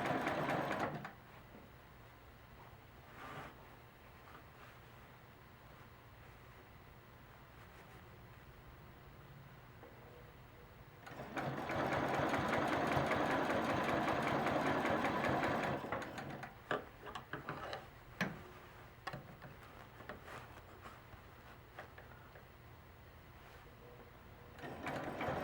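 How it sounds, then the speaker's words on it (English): A sewing machine stitches a quilt block, running steadily for about five seconds in the middle after quieter handling sounds, with short bursts and clicks afterward; no talking. "I'm going to sew a few starter stitches to lock my stitches in place. And stitch along."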